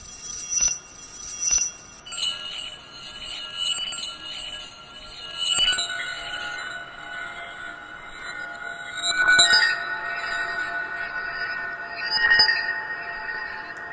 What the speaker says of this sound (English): that's the sound that I've created for my jingle bell instrument.